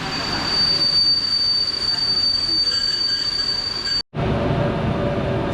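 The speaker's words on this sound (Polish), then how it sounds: "skład rusza punktualnie a za chwilę powinien wjechać Sobieski ale jest opóźniony około 10 minut" Passenger train hauled by an EU160 electric locomotive pulls away from a station platform, its wheels squealing in a loud, sustained high whine over rumbling cars, broken by a brief gap near the end.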